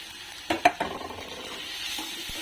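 Rice is stirred into onion masala in a pan, a few sharp spoon clinks near the start followed by a soft, quiet sizzle that carries on to the end.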